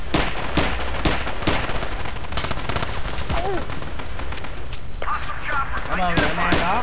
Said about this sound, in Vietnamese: Mình phải bắn súng ngắn.